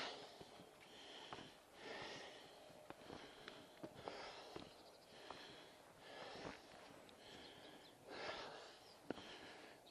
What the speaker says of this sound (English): Instead of music, you've got my puffing and panting today.